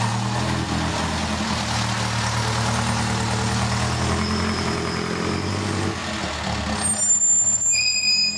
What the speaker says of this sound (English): Whoa, listen to those brakes.